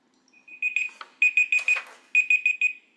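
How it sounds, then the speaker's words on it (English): A meeting timer alarm sounds in a quiet room as clusters of rapid, bright electronic beeps in three or four quick bursts, fairly loud and clear against near silence, with a brief rustle in the middle. "That was my timer."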